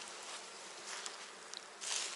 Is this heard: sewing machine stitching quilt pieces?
no